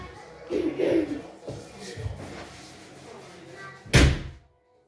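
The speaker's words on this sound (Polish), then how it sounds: "zamknę drzwi" An indoor door is pushed shut after some shuffling and faint movement, ending in a single loud, close thud followed by quiet.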